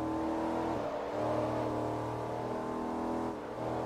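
Steady, loud race car engine from the Forza Motorsport 3 racing game drones throughout, its pitch shifting slightly as it revs and shifts, with no other sounds.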